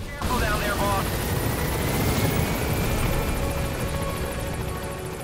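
A helicopter lands in the video game Metal Gear Solid 5, its rotor and engine a loud steady roar that fills the whole stretch.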